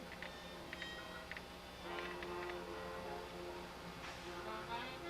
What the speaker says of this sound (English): And here's the train in a perpetual left turn.